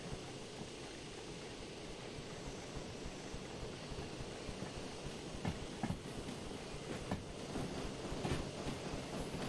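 A steam locomotive in the Derail Valley train simulator rolls along hauling heavy wagons with reduced cylinder steam, producing a low, steady rumble and chuffing with faint intermittent clanks, fairly quiet throughout.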